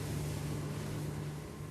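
Ranieri Atlantis 22 motorboat cruising at about 4000 RPM and 25 knots, a steady, loud engine drone blended with rushing water and wind noise throughout.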